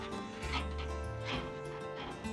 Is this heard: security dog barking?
yes